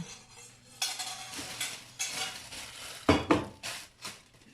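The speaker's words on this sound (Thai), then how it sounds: "แล้วก็จะมาเทลงในถาดนี้" Stir-fried vegetables in oyster sauce slide from a pan into a tray, with metal utensils scraping and clinking in a run of uneven clatters and a sharper knock near the end, close and fairly quiet.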